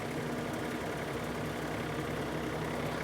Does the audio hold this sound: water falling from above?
no